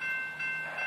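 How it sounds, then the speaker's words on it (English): A southbound CSX intermodal freight train passing near Selma, with a steady broad rumble and rail noise and a sustained horn-like tone running through the whole moment. "here comes another train. Southbound by Selma,"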